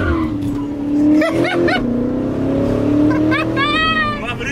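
Car engine roaring and revving as a Corvette spins a donut, loud sustained rumble rising and falling with squealing tire tones near the end, voices talking over it.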